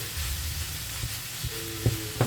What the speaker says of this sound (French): Et on laisse cuire ça, on mélange.